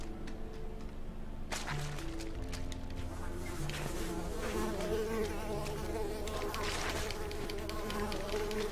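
Mosquitoes buzzing in the forest level of the video game Unravel, a dense whining insect drone that swells and wavers continuously under game background sound, loud and close throughout.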